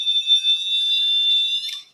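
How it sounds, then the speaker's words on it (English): A high-pitched electronic alarm beeps in a quick pulsing pattern, then settles into a continuous piercing tone for about a second before cutting off, loud and close with no talking. "I don't want to hear that beeping stuff all night."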